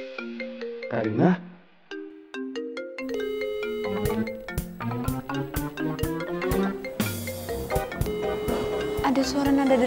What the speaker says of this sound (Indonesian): Ada suara nada deringnya Ciko di sini.